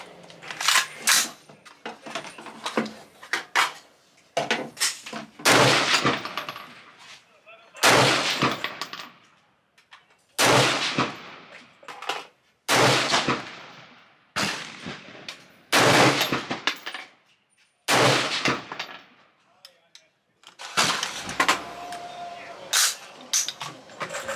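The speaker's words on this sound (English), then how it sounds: "I've done some shooting on the outdoors range" Ruger AR-556 rifle with a 16-inch barrel fired on an outdoor range: sharp, loud gunshots in spaced bursts and single reports, each followed by a brief echoing decay, across about two dozen seconds.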